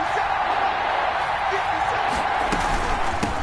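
Football stadium crowd roaring steadily during a Baltimore versus Philadelphia game, a broad continuous wash of cheering and noise with a few sharp thuds near the end, talk faintly mixed in.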